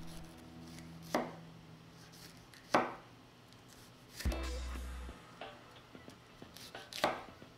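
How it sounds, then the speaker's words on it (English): A knife chops a red bell pepper into bite-sized slices on a board, five or six separate crisp cuts spaced about a second apart, close but fairly quiet with no voices. "Slice the red bell pepper into bite-sized slices."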